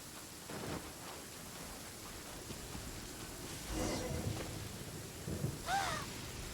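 Rain and rolling thunder from a storm in the video game Genshin Impact, a steady wash of rainfall with a few louder rumbles and swells rising over it, heard alone without talk.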